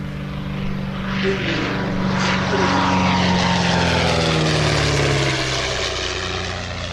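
A propeller aeroplane engine drones loudly and steadily throughout, its pitch shifting slightly as the aircraft passes nearby.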